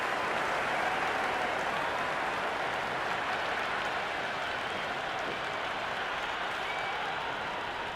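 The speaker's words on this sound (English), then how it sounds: "There's a buzz, a real buzz coming from the stands." Stadium crowd in the Cricket 26 video game cheering and applauding during a T20 match, a dense, continuous roar of clapping and noise that holds steady throughout.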